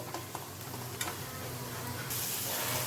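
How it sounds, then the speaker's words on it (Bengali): Tomato and spice masala frying in a pan makes a continuous hiss with occasional stirring scrapes, the sizzle growing slightly brighter near the end. "আমি আরেকটু সময় ধরে এরকম ভেজে নেব"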